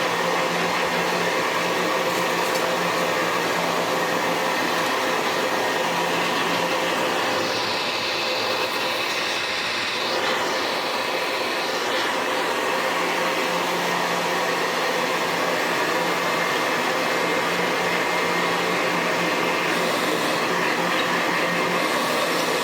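A restored Hoover Senior 6525e vacuum cleaner runs with its hose attached, giving a loud, constant whine and rushing airflow that holds steady throughout without talk.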